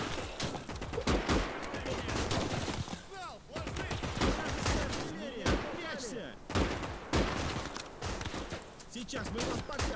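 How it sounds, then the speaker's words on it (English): Heavy massed gunfire from soldiers in the World War II strategy game Gates of Hell, dense overlapping rifle and machine-gun volleys with whistling ricochets running nonstop, while someone talks over it. "30 guys firing at him"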